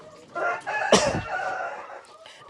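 A Mardi chicken rooster crows nearby, a hoarse drawn-out call over faint farmyard background noise.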